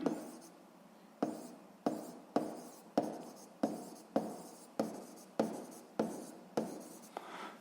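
Pen strokes writing out a physics formula for a seventh-grade exercise, heard as about a dozen sharp, evenly spaced scratches that each fade quickly, close and alone, without any speech.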